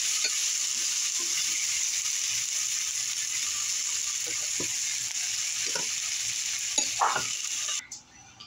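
Vegetables frying in a pan for a fish fillet dish, a steady close sizzle with a few scattered stirring taps and scrapes near the end before the sound cuts off.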